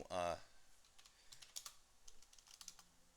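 Quick, light typing on a computer keyboard clicks in short irregular bursts near and faint, after a brief tonal sound at the start.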